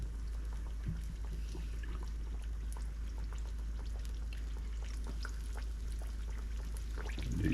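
Battered green tomato slices, coated in flour, cornmeal, salt and pepper, drop into hot frying oil, giving a steady crackling sizzle with scattered pops that continues evenly throughout, with no voices.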